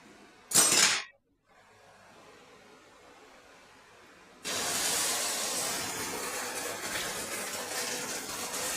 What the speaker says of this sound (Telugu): ఇప్పుడు బ్యాటర్ వేసేద్దాం.